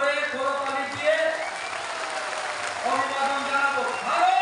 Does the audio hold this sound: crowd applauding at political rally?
yes